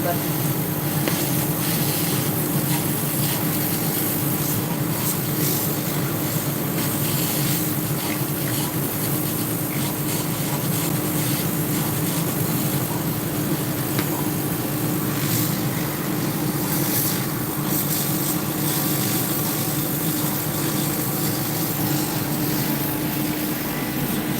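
Stencil design-cutting machine working a peacock pattern, a loud, steady, broadband mechanical roar that runs without pause, with voices speaking over it.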